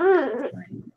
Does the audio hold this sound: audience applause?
no